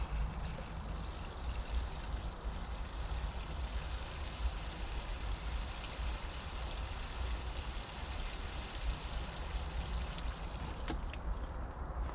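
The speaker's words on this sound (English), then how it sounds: "Now all I've got to do is give it a quick watering." Water pouring steadily onto a newly supported sweetcorn plant in a garden, a continuous close hiss of watering that runs unbroken throughout.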